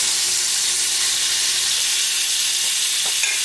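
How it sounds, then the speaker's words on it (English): Black cod fries in a hot pan with a loud, steady sizzle and hiss that continues unbroken, close up, with a faint tap near the end. "While the pan is still sizzling, it's good and hot"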